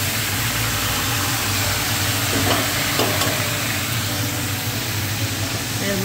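Pieces of pumpkin frying in a kadai give off a loud, continuous sizzle and stirring clatter over a low background hum, with voices faintly present.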